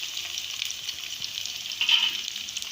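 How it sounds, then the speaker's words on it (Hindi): Onions frying in hot oil in a pan for masala bhindi, a soft steady hiss of sizzling that swells briefly near the end, short and fairly quiet with no speech. "ऑयल अच्छे से गर्म हो चुका है, अब हम इसमें प्याज शामिल कर देंगे।"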